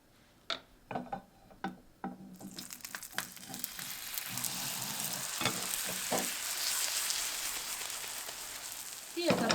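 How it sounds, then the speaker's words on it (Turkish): Pastry frying in oil in a pan, turned and cooked until golden: a few sharp clicks and taps of handling at first, then a loud, dense crackling sizzle of hot oil that swells and holds to the end. "yağda kızarana kadar kontrollü bir şekilde pişirelim"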